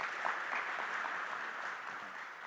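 An audience at a small business meeting claps steadily for a speaker stepping up to the podium, a continuous wash of applause at moderate distance with no pauses.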